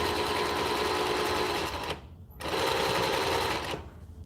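A sewing machine stitching along a waistband, a loud, close, steady mechanical whir that stops briefly midway and then starts again before winding down, with no talking.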